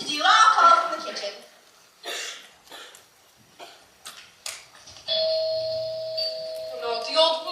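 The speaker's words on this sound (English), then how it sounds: "She's gonna ring her own doorbell." A doorbell rings with a sustained electronic chime in a stage musical scene. Coughs and spoken lines come before it.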